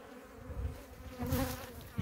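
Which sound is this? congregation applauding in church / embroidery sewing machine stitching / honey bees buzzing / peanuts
honey bees buzzing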